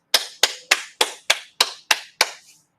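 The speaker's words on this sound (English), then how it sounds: "Ready to clap?" Eight sharp hand claps in a steady, even rhythm, each a crisp close smack with a short decay, the final clap softer, in a quiet room during a music-note lesson.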